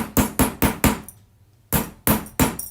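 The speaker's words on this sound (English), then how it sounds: "We're just going to hammer this." Metal hammer strikes flatten a wire jewelry bezel: four sharp, evenly spaced taps close up, a short pause, then three more crisp blows with no talking.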